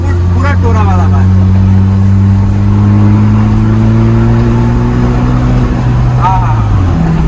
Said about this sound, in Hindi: थार चला रहे हो, एग्जॉस्ट का फील भी देखो